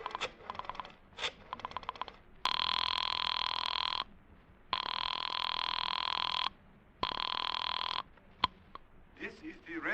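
Old-time telephone ringing in a detective radio drama after a number is dialed, several long loud bell rings with pauses between them, preceded by short clicks.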